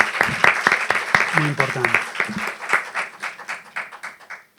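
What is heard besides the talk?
audience applauding the team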